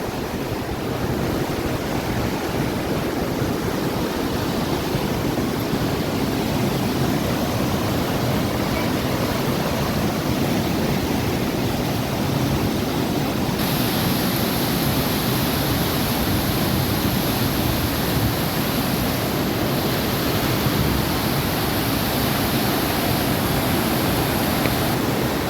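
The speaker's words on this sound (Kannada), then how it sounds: "ಏನು ಸ್ಪೀಡಲ್ಲಿ ಹರಿತಾ ಇದೆ ನೋಡಿ ನೀರು." The fast-flowing Ganges river rushes at Gangotri in a dense, unbroken roar of water that stays loud and close throughout, with a faint wind hiss on top and no voices.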